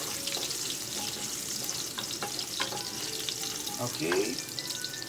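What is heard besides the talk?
garlic sizzling as it fries in hot cooking oil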